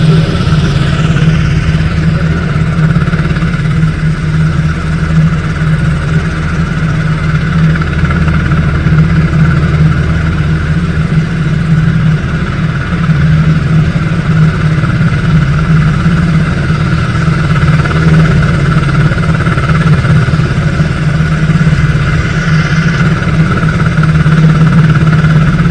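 A snowmobile engine idles steadily with a constant low rumble and throb, unchanging throughout, with no talking. Warming up in the cold in Utah.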